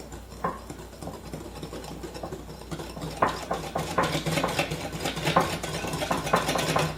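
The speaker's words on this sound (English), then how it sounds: "I'll mix this together with the eggs." Milk being mixed with eggs in a bowl for ice cream: a steady clatter of a whisk or utensil tapping and scraping against the bowl, growing busier and louder in rhythmic strokes over a low hum.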